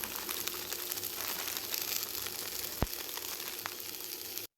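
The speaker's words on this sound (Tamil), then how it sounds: "மிளகாத்தூள், தனி மிளகாத்தூள், சேர்த்து வதக்குங்க." Chili powder sautéing in a pan for a Tamarind Kulambu, a steady close sizzle and crackle running throughout, with a couple of brief sharp clicks, ending abruptly.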